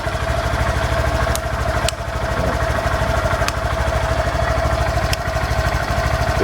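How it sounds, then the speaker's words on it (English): A Honda Grom motorcycle engine idles with a steady, close, low-pitched putter, unbroken for the whole stretch, with a few sharp clicks on top, likely from the turn signal switch. "I have to turn the engine on for the lights to come on"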